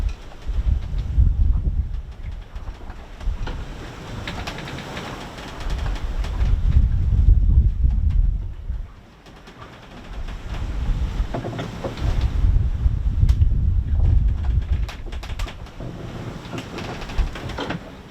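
Wind gusting over a sailboat at night, with low rumbling swells of air and water rising and falling in long waves, and faint creaks and knocks from rigging under the steady roar.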